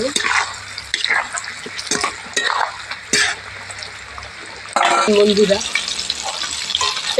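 Chicken pieces frying in hot oil for KFC-style fried chicken, sizzling steadily while being stirred and turned, with scraping clinks and a louder surge of bubbling midway.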